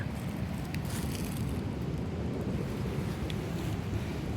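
Wind sweeping through a forest makes a steady, low, rushing roar that buffets the microphone throughout, with no voices.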